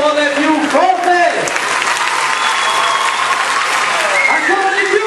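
A large audience claps continuously, a loud broadband roar of hands, with a voice or tonal sound briefly rising over the applause near the start and end.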